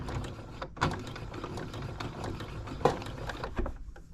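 A sewing machine stitching a neckband onto a sweatshirt, running in a fast, steady mechanical patter up close, broken by a couple of short clunks.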